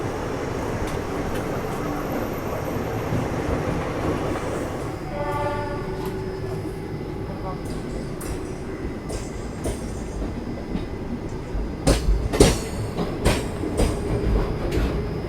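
The Pune–Ahmedabad Ahimsa Express rumbles past with a steady clatter of wheels, a horn sounding briefly midway and sharp clicks of wheels on rail joints near the end.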